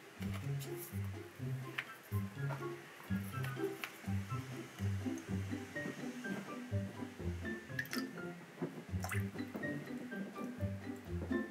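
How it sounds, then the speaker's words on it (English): A plastic toy glitter globe is filled with water, giving soft gurgling, squishy pours and little drips amid handling taps, while a person speaks quietly throughout. "Let's fill this with water."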